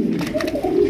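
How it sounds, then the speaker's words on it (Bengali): A Koka pigeon coos close and loud, a short low throaty call filling the moment alone. "আর পুরো ভিডিওতে কিন্তু কোকা কবুতর ডাকবে"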